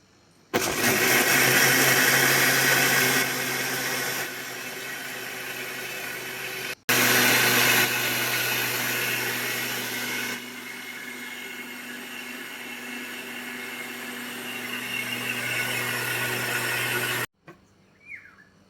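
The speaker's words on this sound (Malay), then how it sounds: "lepas ni kita blender sampai hancur" A blender whirs loudly and continuously through a caramel pudding mixture, pausing once briefly before running again at slightly varying speeds, then cutting off near the end.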